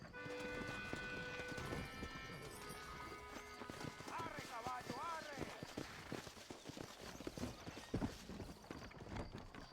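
Video game horse hooves clip-clop steadily while a horse snorts and characters talk, with music-like tones underneath, in Red Dead Redemption.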